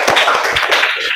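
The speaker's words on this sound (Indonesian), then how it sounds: "Tepuk tangan dulu buat temannya," A short burst of dense, steady clapping from a classroom of students, filling the whole moment with a bright crackle of many hands.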